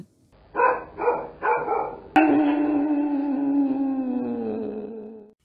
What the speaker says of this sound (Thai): เสียงหมาเห่าดังๆ ที่หน้าบ้าน